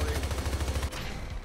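A rapid-fire machine gun in the video game Hypercharge: Unboxed, with a fast, evenly spaced burst of loud shots for almost a second, then ringing off into game background noise.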